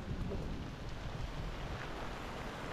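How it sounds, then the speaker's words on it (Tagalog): Heavy rain pours steadily as a typhoon approaches, a dense, constant hiss that stays loud and unbroken throughout, with a rumbling low-end wash from wind or distant thunder and no voices. "Medyo malakas naman yung ulan na to."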